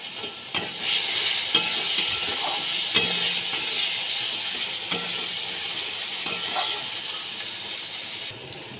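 A ground paste of mustard, garlic, green chili and ginger with turmeric fries in oil for a tilapia dish, a soft steady sizzle broken by occasional spatula clinks and stirring scrapes.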